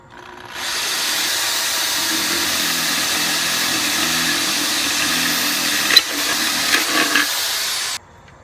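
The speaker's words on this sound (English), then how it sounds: "now we're going to simulate a faster churn rate by drilling more holes in the bowl" A power drill whirs steadily for several seconds at close range, drilling holes in a bowl, with a few rough grinding catches near the end before it stops.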